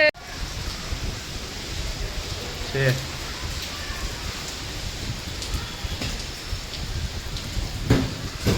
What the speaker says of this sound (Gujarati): આ સીઝનનો પહેલો વરસાદ